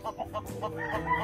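A brood hen of the Kanawayan line, light gray, sitting on her nest in a backyard flock, gives a run of short, soft clucks in an uneven rhythm, close by with other chicken sounds mixed in.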